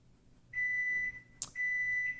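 A kitchen-style countdown timer beeps in a steady high-pitched tone, breaking briefly and then resuming, during a quiet coloring session; no one speaks over it.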